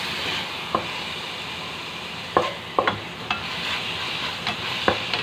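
Adobong sitaw, string bean adobo with brown sugar and water, sizzling steadily in a pan while a utensil scrapes and clinks against it a few times, close and without talk.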